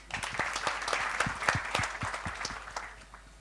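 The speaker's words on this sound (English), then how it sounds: "Round of applause, please." Audience applause at a fintech expo in Armenia, with distinct individual claps standing out from a moderate crowd clapping that swells and then tapers off toward the end.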